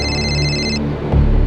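A phone rings for an incoming call with a steady electronic tone that stops partway through, followed by a low thump and background hum, and no voices.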